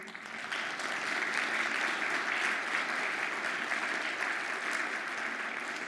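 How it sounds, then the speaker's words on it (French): Sustained audience applause at a conference, with dense, even clapping that swells quickly and stays loud and steady from start to finish. "Et on pourrait l'applaudir aussi"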